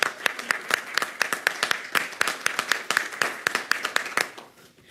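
Audience applause at a public announcement of a downtown Pontiac investment, a steady burst of many hands clapping up close that carries on for several seconds before tapering off at the end.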